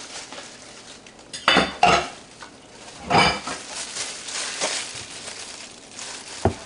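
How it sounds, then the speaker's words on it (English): A spoon works through almond flour chocolate chip cookie dough in a single bowl, giving loud clattering knocks and scrapes against the bowl in irregular bursts with softer mixing sounds in between. "Now I'm just going to basically get everything all well mixed together to have my chocolate chip cookie dough"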